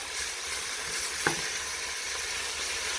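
Turkey neck pieces browning in a pot for Jamaican curry turkey neck, giving a steady, soft frying sizzle throughout, with one brief clink partway through.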